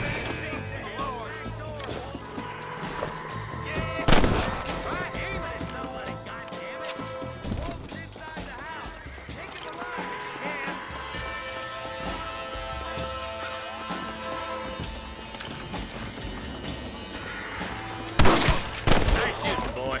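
Gunfire from the Western video game Red Dead Redemption rings out as sharp shots, with a louder cluster near the start and another near the end over a dense, steady mix of game music and ambient noise.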